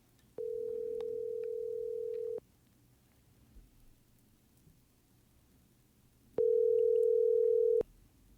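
Outgoing telephone call ringing out, two long steady electronic ring tones separated by a quiet pause, clear and isolated with faint background noise.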